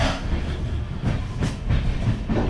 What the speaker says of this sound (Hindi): काफ़ी अच्छी ट्रेन है ये,